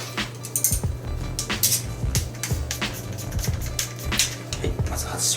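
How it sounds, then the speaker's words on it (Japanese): A fishing reel being detached from its rod during post-fishing maintenance, giving a run of small plastic and metal clicks and clinks up close, with fainter rustling between them. "まずはロッドとリールを外します。"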